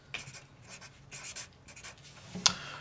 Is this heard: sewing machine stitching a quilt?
no